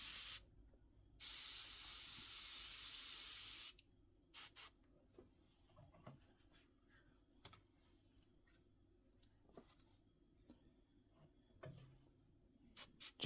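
An airbrush or spray can hisses in one steady burst of about two and a half seconds while painting a Revell 1/48 Bristol Beaufighter Mk.VI scale model kit, followed by quiet clicks and handling noises on a workbench.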